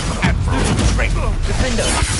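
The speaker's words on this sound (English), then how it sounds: "Oh, yes, Expelliarmus! Protego!" Spell effects for Expelliarmus and Protego cast in a fantasy video game, a busy run of whooshing, crackling bursts layered with a voice calling out, loud and close throughout.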